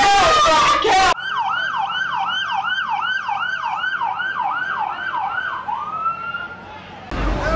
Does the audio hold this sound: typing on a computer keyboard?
no